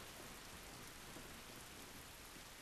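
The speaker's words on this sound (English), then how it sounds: "This rain ain't gonna do us any good." Steady, dense rain falls outdoors in The Last Of Us, a continuous even hiss of drops on surfaces, quiet and unbroken, with no talk.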